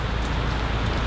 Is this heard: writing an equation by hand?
no